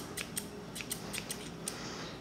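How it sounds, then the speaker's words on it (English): Scissors snip and creak in several sharp, close clicks against stiff epoxy-hardened yarn, faint and isolated with no talk. "I don't know if scissors can cut through epoxy yarn."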